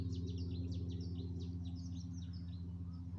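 Cetti's warbler singing in spring woodland with sallows in flower, repeated bright chirping phrases over a constant low droning hum, moderately distant.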